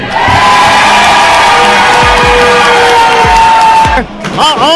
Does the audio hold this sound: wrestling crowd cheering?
yes